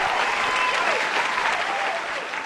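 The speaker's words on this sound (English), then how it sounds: "Got the applause going on." Sustained applause from a packed house at a live show, thick and continuous clapping up close that eases slightly toward the end.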